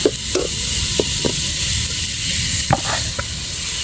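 Meat sizzles steadily in hot oil, a dense broadband hiss with a few sharp spits and crackles scattered through it, close and fairly loud with no talking.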